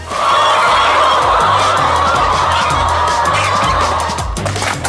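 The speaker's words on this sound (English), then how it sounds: "Well, Ross, your chickens are certainly making a lot of happy noises." A dense chorus of many chickens clucking and squawking fills an enclosed barn, loud and constant, with no voices above it.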